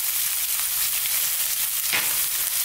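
Mushrooms fry in a pan over medium-low heat for a curry, giving a steady, fairly loud hiss with a brief scrape or stir near the end.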